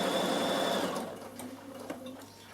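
Bernina sewing machine stitching an Easter basket, a brief burst of rapid close needle strokes that slows and stops, followed by a few quieter clicks and small handling noises.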